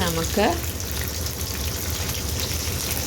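Ginger and onion frying in a pan for paneer taka tak, a steady hissing sizzle after a brief voice at the start.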